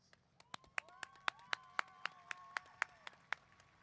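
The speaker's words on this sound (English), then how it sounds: "Please rise and give them a round of applause" High school graduation audience applauding, heard as sparse, distinct claps in a loose steady rhythm, fairly faint, with a soft sustained tone running underneath.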